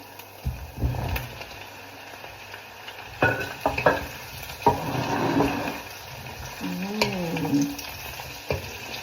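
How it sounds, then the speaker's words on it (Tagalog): Mixed vegetables sizzling softly in a frying pan while a utensil stirs them, with intermittent scrapes and knocks against the pan over a low background hum, and no talk. "Ating mix gulay."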